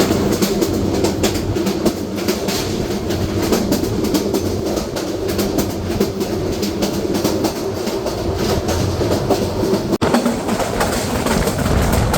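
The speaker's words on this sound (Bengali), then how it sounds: "মিটার গেজ ট্রেনের ট্র্যাকের সাউন্ড" The Burimari Express runs along meter-gauge track, giving a loud, continuous rumble with steady clattering from the wheels and a brief sharp knock near the end.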